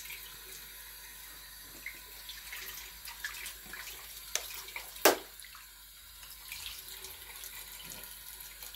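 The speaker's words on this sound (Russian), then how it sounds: "Теплая вода." Warm tap water runs into a sink while cupping jars are washed, a steady soft stream with faint clinks and one sharp knock near the middle, no talking.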